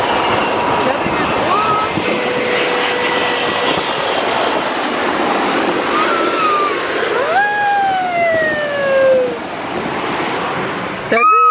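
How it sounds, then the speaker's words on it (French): An Emirates Airbus A380 airliner roars past with a loud, sustained broadband engine rumble and whining tones that bend downward as it passes, with people talking over it. "Il devient fou le mec pour cet avion-là. C'est la 380 d'Emirates."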